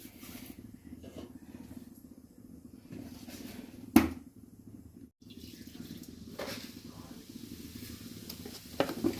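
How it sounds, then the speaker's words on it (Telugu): Bitter gourds frying in oil: a soft, steady sizzle with faint stirring clatter and a few sharp knocks, while a person talks over it. "కాకరకాయలు ఫ్రై అవ్వాలన్నమాట దాంట్లో"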